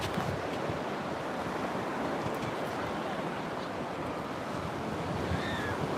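Continuous wash of ocean surf breaking at the water's edge, steady broadband roar with wind buffeting the microphone, no distinct individual wave crashes, fairly faint and even throughout.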